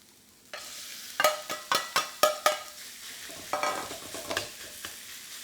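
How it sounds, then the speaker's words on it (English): Pork mince hits a smoking-hot wok on high heat, bursting into a sizzle, followed by a rhythmic series of sharp scraping stirs and pressing strokes against the metal, close and clear. "And just press into the pork mince. Allow that to start sealing on the bottom of the wok on a high heat."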